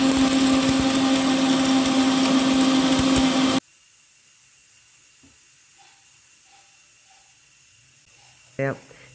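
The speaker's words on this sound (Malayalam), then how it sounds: "ഇനി ചുക്കാണ് ചുക്ക് എല്ലാം വേറെ വേറെ പൊടിക്കണേ ചുക്കിനൊക്കെ കുറച്ച് കട്ടിയുണ്ട്" A mixer grinder whirs loudly and continuously while grinding dry ginger into powder, then cuts off abruptly, leaving near silence with a few faint knocks.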